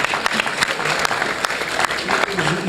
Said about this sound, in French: vous pouvez continuer à applaudir, allez-y.